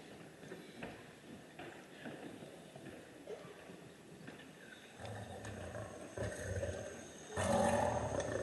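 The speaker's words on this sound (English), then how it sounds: "What is that sound? Is that a lion?" A lion roaring during an evening event at a South Africa convention, heard as low, rough rumbling roars that build and grow louder toward the end, with no talk over them.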